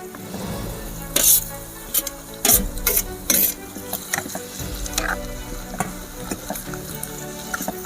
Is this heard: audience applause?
no